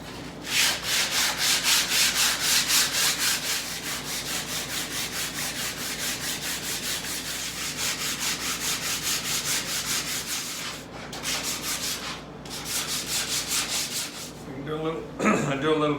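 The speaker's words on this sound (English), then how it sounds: "Do a little bit more fine sanding on that." Rhythmic back-and-forth hand sanding of a wooden sideboard piece, steady rasping strokes repeating evenly and close up, with a couple of brief pauses near the end and no talk.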